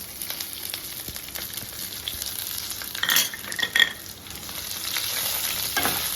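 Dry red chillies and garlic splutter in hot oil for a tempering, a steady close sizzle with bursts of sharp crackles and pops, no talking heard.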